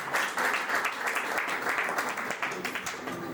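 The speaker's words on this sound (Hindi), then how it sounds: "एक बार टीचर्स के लिए और बच्चों के लिए जोरदार तालियां होनी चाहिए।" A crowd at a school annual function in Rohtak claps loudly for teachers and children. The dense, continuous applause fills the hall, with a faint hum of voices underneath.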